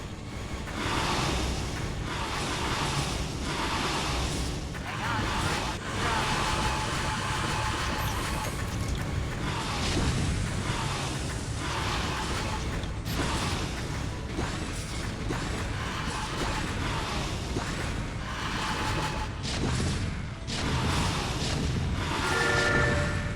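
Valkyrie rocket fire and explosions in StarCraft: Brood War, rendered as a dense, continuous mechanical roar broken by repeated rushing bursts that stay loud throughout.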